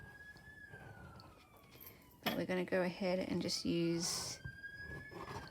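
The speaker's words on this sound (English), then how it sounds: "Sorry about the sirens in the background," An emergency vehicle siren wails, rising and falling in the background behind steady speech, fairly prominent, with a brief loud burst near the middle.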